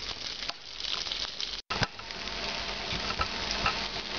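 Whole spices such as cinnamon and cloves toasting in a hot pan for a pork mole, giving a soft, steady crackling sizzle with light patter, close and continuous, with no talking.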